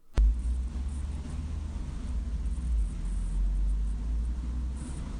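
A car passes outside as a steady low rumble and hum that rises and falls gently across the whole stretch, with a sharp click at the start.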